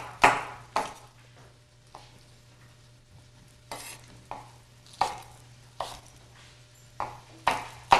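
A knife chops food into chunks on a kitchen cutting board, about a dozen crisp, close thuds landing at an uneven pace over a quiet background hum.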